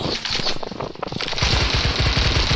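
Rapid bursts of gunfire in a newly tried video game, loud and continuous, with dense repeated shots building into a steady, heavier barrage in the second half.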